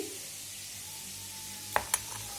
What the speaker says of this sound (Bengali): আর এখানে দেখো আজকে পনির রান্না করছি